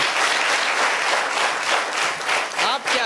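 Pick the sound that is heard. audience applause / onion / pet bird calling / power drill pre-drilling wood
audience applause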